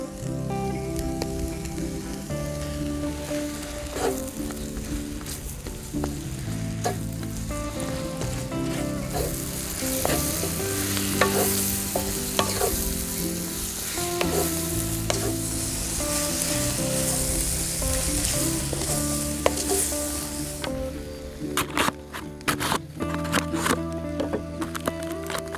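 Butter sizzles and fries steadily in a pan over a portable firewood stove, a continuous close crackle with occasional scraping and stirring sounds.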